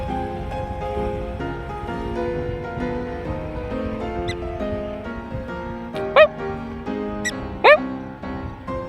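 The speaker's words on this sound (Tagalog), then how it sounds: "Kumakahol." Two sharp dog barks near the end, a second or so apart, rising above a steady background hum.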